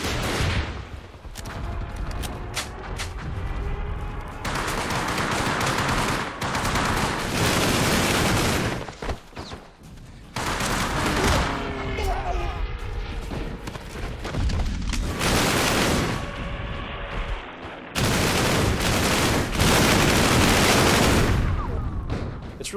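Rapid bursts of gunfire and sustained MG42 machine gun fire rattle through a World War II shooter game, Hour of Victory, with loud volleys broken by short pauses.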